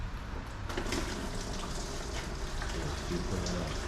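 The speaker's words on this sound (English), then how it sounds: "I am about to drain the water." Water running out of a Ford Mondeo 2.5 engine as it is drained, a faint continuous trickle and splash like a tap, with some quiet clatter and background sound.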